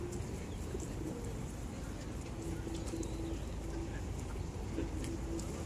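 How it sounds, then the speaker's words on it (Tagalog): Pigeons coo softly in short repeated phrases against a steady background rumble in Otaru, Hokkaido, Japan, the calls faint and intermittent. "Ang daming kalapati."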